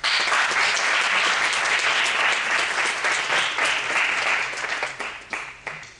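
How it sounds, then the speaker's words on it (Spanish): Loud, sustained audience applause at a talk on teaching practical skills for a profession, dense clapping filling the room before thinning out toward the end. "Un fuerte aplauso y muchas gracias"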